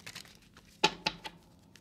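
Tarot cards being shuffled by hand: a few quiet crisp riffles and snaps, the clearest near the middle, with soft papery rustling around them and no talking.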